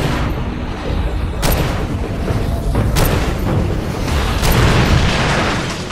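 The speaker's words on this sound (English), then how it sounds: "An interesting way to use fire is to shoot liquid propane tanks." Liquid propane tanks shot in the Far Cry 2 video game, erupting in a loud sustained roar of fire with sharp booming blasts breaking through at intervals, dense and close throughout.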